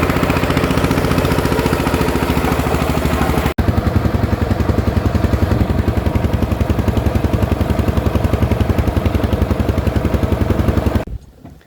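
A small fishing boat's engine runs on a river in the Sundarbans, thudding in a steady, loud, close idle rhythm with a brief break early on before cutting off at the end.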